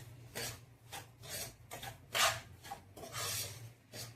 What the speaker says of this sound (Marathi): आता आपण या कण्या भाजायला घातल्यात.